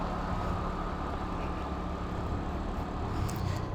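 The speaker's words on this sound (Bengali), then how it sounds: "আর ইঞ্জিনের সাউন্ড তো বুঝতেই পারতেছেন আমি পিক আপ দিলে কীরকম হয়েছে" A TVS Wego scooter with about 5000 km on it runs its engine close by, giving a steady, continuous low drone with no voices over it.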